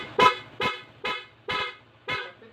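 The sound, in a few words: dual loud horn on Honda ADV 160, M1 Senlo and PIAA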